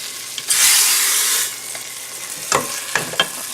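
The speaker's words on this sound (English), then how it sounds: "See how that sizzles?" Urad dal soup mixture poured into a hot pan gives a loud burst of sizzling for about a second, then fades to a soft crackle, followed by a few sharp clinks of a utensil stirring.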